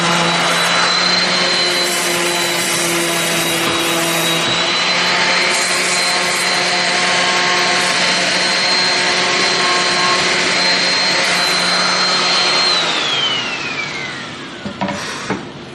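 An electric sander whirs steadily and loudly for a long stretch, grinding against wood, then winds down near the end with a few light knocks.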